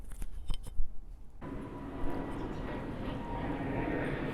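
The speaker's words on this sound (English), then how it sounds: "Can you hear the plane?" A jet aircraft passes overhead near a budget rental in Bangkok, rising after an abrupt start into a steady, broad roar that fills the scene and persists throughout.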